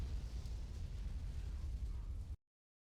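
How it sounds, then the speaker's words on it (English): Explosion in the video game Jade Empire, a dense, loud low-frequency rumble that roars steadily for over two seconds and then cuts off abruptly into silence. "Explosion. Explosion!"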